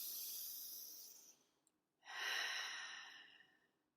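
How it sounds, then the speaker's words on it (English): A slow, deep inhaling breath taken during a calm pause, heard close and soft as a broad airy hiss that swells and then fades, with a shorter breath just before it and no talking. "Just pausing and taking a deep breath in."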